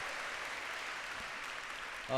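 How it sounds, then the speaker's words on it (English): A tennis crowd at a Davis Cup Asia Oceania Group III singles match, Singapore against Iran, applauds a point with a steady wash of clapping close to the microphone, and a voice starts at the end. "Great points, and the crowd appreciates it."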